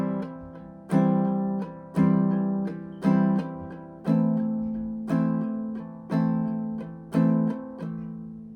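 A ukulele is strummed in a fast 3/4 pattern with accented downbeats that give a lilting 6/8 feel, the accented strums landing about once a second in a steady cycle, close and clear with no talking.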